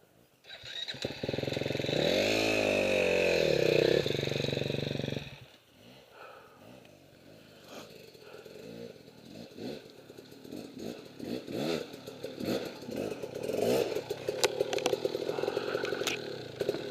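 A KTM 300 two-stroke dirt bike on a trail at Emma Long park in Austin, with a loud, close engine rev that rises and falls, then gives way to quieter, uneven riding noise and some talk.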